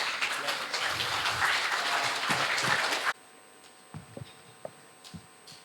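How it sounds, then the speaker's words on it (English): Dense applause from an audience for about three seconds, then it cuts off abruptly to near quiet with a few faint knocks. "Let's give a very big applause to Mr. Noriyuki Ono."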